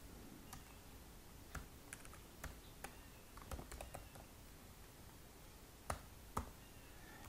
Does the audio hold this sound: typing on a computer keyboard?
yes